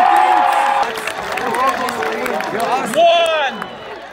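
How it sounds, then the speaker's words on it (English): A graduation crowd for the class of 2018 cheers and shouts together, a loud mass of voices with whoops rising over steady babble, swelling again near the end. "let's get a cheer for a big win"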